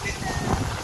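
Strong gusting wind buffets the microphone at a riverside ghat in Rishikesh, a loud, steady low rumble filling the whole short stretch without any clear voice over it.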